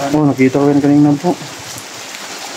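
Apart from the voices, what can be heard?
heavy rain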